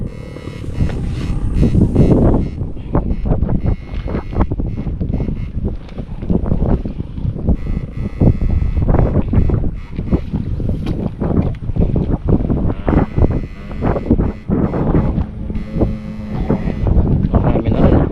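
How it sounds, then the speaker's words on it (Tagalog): Several noisy boat motors drone and buffet nearby on the water, a rough, continuous low-pitched rumble with wind gusting over the microphone throughout. "Ang dami maingay na motor."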